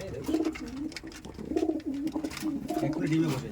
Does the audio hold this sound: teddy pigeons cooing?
yes